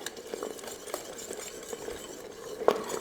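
Steady stirring of a thick mixture inside an Instant Pot, soft continuous scraping and swishing close up, with a brief louder knock of the utensil against the pot near the end.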